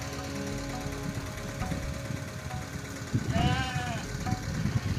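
Goats in a herd being driven along give one clear, drawn-out bleat midway, rising above a steady low engine-like rumble and mixed background noise.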